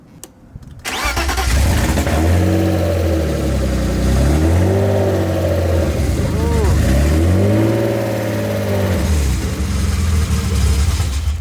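A BMW E30 fitted with a swapped-in M50 engine cranks briefly, catches and fires up, then runs loud and close with repeated revs rising and falling over a steady idle, with voices speaking alongside it.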